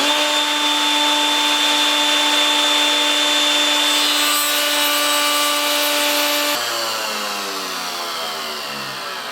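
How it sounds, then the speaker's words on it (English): Router cutting a dovetail slot in wood for a shelf, a loud steady high-pitched motor whine with cutting noise that drops abruptly near the end as the router winds down. "Plug my router in."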